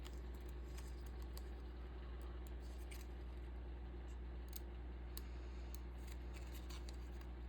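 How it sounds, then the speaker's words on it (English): Scissors snipping through fabric in a steady series of soft crisp cuts, heard over a constant low hum. "These are my fabric scissors, but we are going to use them."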